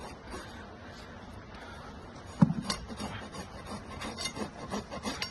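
A farrier rasps the hoof of a recovering laminitic horse being fitted with a eurobar shoe, giving close, steady scraping strokes that sharpen into a quick series of harsher rasping passes partway through, with no talking.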